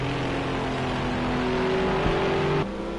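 GT3 race cars, a Bentley and a Nissan, at Watkins Glen in a racing video game: a loud, sustained engine drone with rising tones as the cars accelerate, cutting off abruptly near the end.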